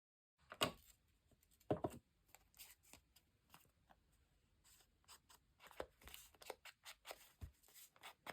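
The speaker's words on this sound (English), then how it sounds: "Let's see if I can cut a straight line" Scissors snip through paper while cutting an ephemera piece, with sharp separated crunches and shorter quiet cuts spread irregularly across the stretch, close and clear against near silence.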